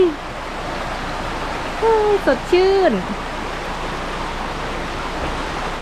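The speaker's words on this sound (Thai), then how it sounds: "ด้านหลังห้องพักนะคะก็จะเป็น นี่เลย เป็นลำธารนะคะ" A stream runs behind a homestay room in Mae Lai Village, Chiang Mai, giving a steady, even rush of water that carries through the whole stretch while someone speaks briefly over it.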